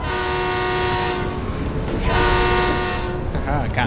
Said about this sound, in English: I got through the train that time.